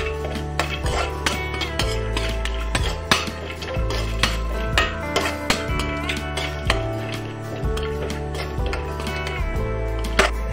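Chopped coconut roasting in oil in a pan, with repeated metallic clinks and scrapes of a utensil stirring against the pan in an irregular rhythm over a low steady hum.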